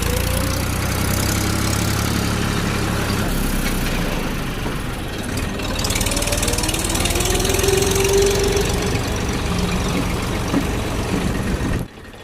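A tractor engine chugs steadily on a bumpy, uneven dirt road, loud and close throughout with a faint squeal rising partway through, until it cuts off just before the end.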